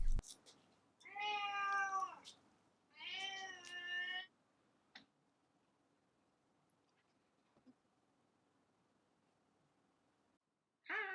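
A cat meows loudly twice, long drawn-out calls close by, begging for shrimp being peeled for fried golden shrimp, followed by a quiet stretch with faint taps and a third meow starting at the end.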